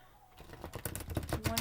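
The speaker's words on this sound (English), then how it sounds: "One more shuffle, and then we're going to get some info from Gaia." Tarot cards are shuffled in a rapid run of crisp, papery clicks and riffles that starts after a brief quiet moment and grows louder and denser toward the end.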